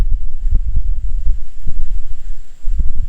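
Gusty wind buffets the microphone outdoors on the water while bass fishing with a spinnerbait, loud low rumbling surges rising and falling in irregular bursts throughout.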